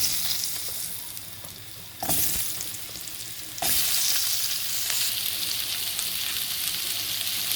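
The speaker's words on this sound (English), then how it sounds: "Then we'll be adding all these veggies, pumpkin, yam and springboard, and we'll saute it in this oil." Pumpkin, yam and other vegetables sauté in hot oil for a traditional one-pot bhaji, a steady, bright sizzle that jumps louder in two sudden steps as more goes into the pan, with no talking.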